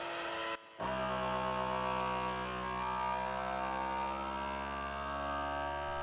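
The pump of a Nesco VS-12 vacuum sealer starts after a brief pause, then holds a steady, droning hum as it draws the air out of a bag.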